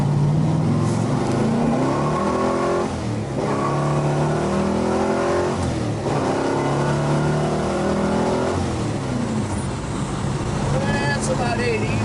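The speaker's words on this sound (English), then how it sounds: "You can hear it runs just like it should, pulls just like a strong 446 pack should." A 1970 Plymouth Road Runner with a 446 six-pack V8 revs and accelerates hard from inside the car, the engine note climbing through the gears in rising sweeps with brief dips at each shift.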